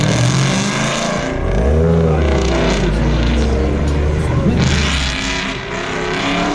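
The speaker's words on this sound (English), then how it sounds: "here's an SN95 that's been at the meet a couple times" A Ford Mustang SN95 rolls past at a car meet at Alaska Raceway Park, its engine rumbling loud and close with a rising rev midway, mixed with crowd and other car noise.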